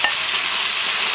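Onions with freshly added tomatoes frying in a pan of hot oil, a loud, dense, even hiss of sizzling that fills the short moment without a break and with no voices.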